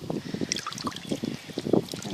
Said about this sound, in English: I've got some water here, I'm just going to soak it in, let it absorb some water,